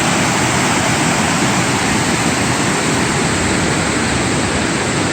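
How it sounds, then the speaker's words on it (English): Redbud Falls on the Tuckasegee River, heard from its base: a loud, steady roar of rushing water fills the whole span with unbroken broadband noise, close and constant. "The base of Redbud Falls."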